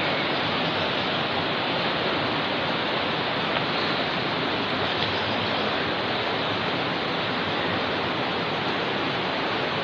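A river rushing out at its outlet near a cave in San Miguel, Bulacan, a steady, loud broadband roar of flowing water that continues unbroken, with no voices.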